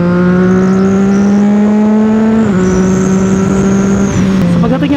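A CFMOTO 675SR-R motorcycle engine screams at high RPM, a loud, close, steady tonal whine that dips briefly as it shifts, then keeps droning.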